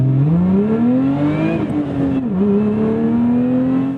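A 2024 Lotus Emira sports car pulls hard under full throttle, its engine note climbing steadily with a brief dip at a gear change before rising again, loud and close from inside the car.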